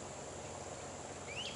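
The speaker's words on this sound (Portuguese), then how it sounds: "a gente ouve apenas os pássaros, os grilos" Crickets chirp in a steady, faint drone at dusk beside the Waccamaw River in South Carolina, with a brief bird call rising near the end.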